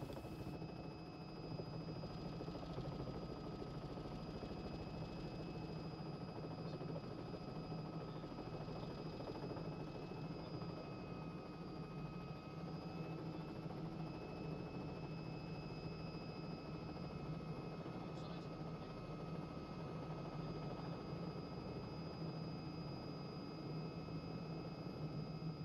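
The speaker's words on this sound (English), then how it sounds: "an example of a confined area landing in a Robinson R66 helicopter" A Robinson R66 helicopter descends steeply into a confined landing area, its steady engine drone and rotor hum filling the whole stretch, constant and fairly loud, with a high whine running over a low throb.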